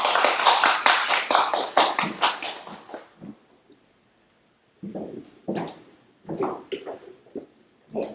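Applause from an audience at an education seminar, a dense burst of many hands clapping that fades out after about three seconds, followed by quieter scattered sounds.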